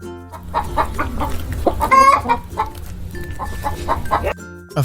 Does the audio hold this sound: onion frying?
no